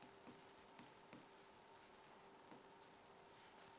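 Hand writing during a grammar lesson, a pen or chalk stroking in quick bursts of rubbing scratches with short pauses, close and fairly quiet, no talking.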